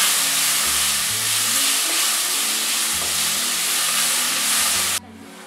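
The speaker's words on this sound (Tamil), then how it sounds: "தக்காளி போட்டு நல்லா வதங்கணும்." Tomatoes sautéing in a pan of oil with curry leaves and asafoetida for lemon rasam, a dense continuous sizzle and hiss with low stirring thumps, close up, cutting off abruptly near the end.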